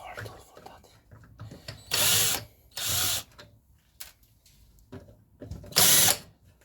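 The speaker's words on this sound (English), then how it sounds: "Maybe I can use a power tool for" A power tool whirs in three short, loud bursts while a Tracer Zonda steering wheel is taken apart, with quiet handling noises and faint talk in the gaps between.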